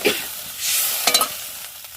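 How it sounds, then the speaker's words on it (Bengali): Egg curry with spices simmers in a pan with a little added water, giving a soft sizzle and bubbling, then a few quick scraping stirs, close and with no talking. "এইভাবে ডিমটা রান্না করার জন্য দেখো এটা একটু অনেকক্ষণ ফুটবে, ফুটুক ততক্ষণ"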